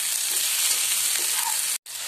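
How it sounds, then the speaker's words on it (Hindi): Tomatoes cooking in a pan for palak paneer, an even, close, hissing sizzle that runs steadily and cuts out briefly near the end before resuming. "अब हम इसमें टमाटर डाल देंगे और इसे थोड़े नरम होने तक पकाएंगे।"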